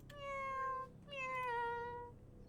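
A person imitates a cat meowing, two drawn-out, clearly pitched meows in a row, close and fairly loud with no other talk.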